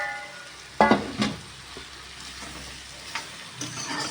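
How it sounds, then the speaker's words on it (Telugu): Chopped carrot and beetroot fry in a pan over a low flame with a soft, steady sizzle, broken by a few sharp spoon scrapes and taps as they are stirred. "ఇంకా ఇది ఇలా లో ఫ్లేమ్లో ఫ్రై అవ్వాల్సిందే"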